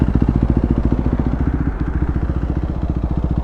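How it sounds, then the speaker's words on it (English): A KTM RC 390 motorcycle fitted with an Akrapovic exhaust idles close by, a loud, steady, rapid thumping pulse with no voices present. "This is the idle sound"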